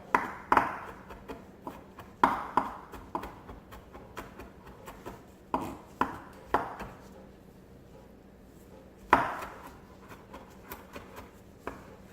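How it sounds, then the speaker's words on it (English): A knife minces two garlic cloves on a chopping board, giving sharp irregular taps in quick clusters separated by short pauses, close and crisp with no talking. "So here I have 2 cloves of garlic that I'm mincing very well."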